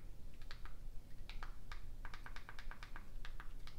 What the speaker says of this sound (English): Going to type this one in